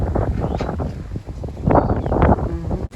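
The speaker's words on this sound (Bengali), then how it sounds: "এখন পুরো হাওয়া দিচ্ছে" Wind gusts buffet the microphone outdoors ahead of rain, raising dust, a loud rumbling roar that swells and eases in uneven surges.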